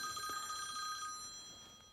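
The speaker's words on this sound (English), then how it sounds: "it's fucking ringing me now. Better answer it." A telephone bell rings in a quiet indoor room, a steady electronic trill with bright sustained tones, fairly faint and heard alone with no talking.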